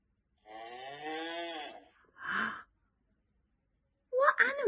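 A cow gives a single drawn-out moo, clear and fairly close, followed by a short breathy sound and a brief burst of other noise after a silent pause.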